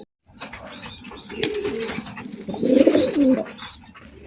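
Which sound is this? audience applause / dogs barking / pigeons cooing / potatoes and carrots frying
pigeons cooing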